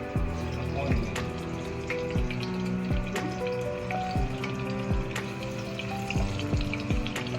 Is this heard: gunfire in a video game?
no